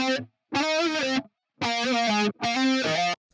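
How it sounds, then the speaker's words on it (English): Three bursts of heavily distorted guitar, a phaser feeding into distortion for a sweeping vowel-like, keyboard-ish tone, separated by brief silences. "it's a phaser going into distortion and giving that vowel quality"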